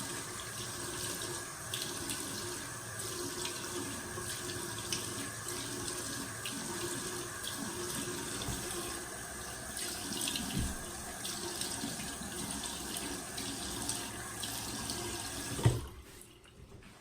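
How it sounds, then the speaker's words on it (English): Water runs steadily from a bathroom sink tap while a face is rinsed during a wet shave, with splashing throughout, a brief knock near the end, and then the flow stops. "I'm going to go ahead and rinse off my face here"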